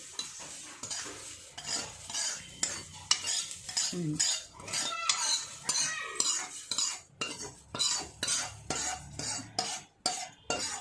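Vermicelli is stirred in a hot kadai, the spoon scraping the metal in quick repeated strokes, each sweep a rough, rhythmic scratch over a light sizzle.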